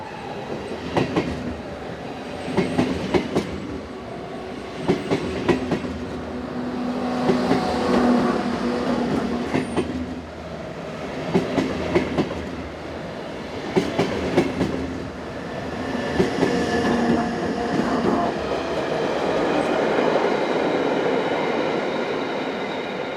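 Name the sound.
Swiss class 450 commuter train passing near Rupperswil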